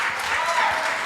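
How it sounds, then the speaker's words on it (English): Audience applause at a live-streamed talk with doctors, a brief burst of dense clapping that fills the moment. "Let's give them both a big round of applause"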